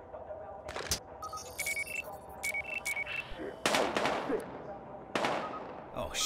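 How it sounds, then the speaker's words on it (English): Gunfire in the video game Battlefield Hardline: several sharp shots and bursts ring out amid game sound effects, with some sharp, loud reports standing out near the middle and end. "We've got gunshots."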